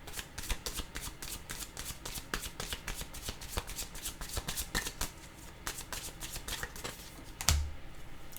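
Tarot cards being shuffled by hand, a rapid run of crisp riffling flicks and slaps close up, ending with a single sharper knock as a card is set down.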